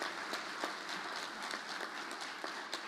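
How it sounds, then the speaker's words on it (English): Conference audience applauding at the opening of a multi-conference in Costa Rica, dense, continuous clapping heard from within the crowd at moderate loudness, with no talk. "Please, a round of applause for them."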